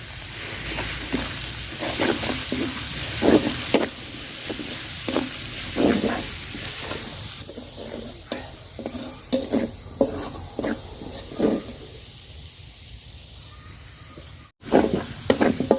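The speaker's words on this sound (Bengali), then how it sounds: "তো রসুন বাটাটা আমি ভাজা ভাজা করে নিছি" Garlic paste frying in hot oil with chopped onions for a shrimp and cauliflower curry, a steady sizzle broken by repeated scraping stirs of a spoon in the pan, close and fairly loud, with a brief dropout near the end.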